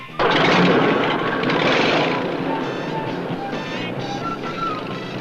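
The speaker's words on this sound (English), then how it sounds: "he barks the engine into life with a roar" A 1971 Miss Budweiser unlimited hydroplane engine roars to life abruptly and stays loud, a dense, steady mechanical roar that eases slightly as it continues, heard alone.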